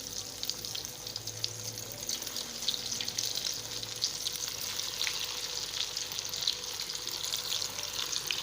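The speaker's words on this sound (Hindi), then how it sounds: "तेल असांजो गरम थी वियो आहे, विझूं था हिन में" Lotus roots sizzle steadily in hot oil for a Sindhi vegetarian dish, a loud continuous frying hiss with crackling bursts, close and uninterrupted, no voices.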